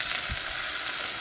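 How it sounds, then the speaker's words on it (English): Tomatoes dropped into hot olive oil in a pan give a loud, continuous frying hiss with a couple of soft low thumps at the start, heard alone and close. "Ooh, nice sizzle."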